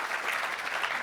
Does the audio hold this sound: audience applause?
yes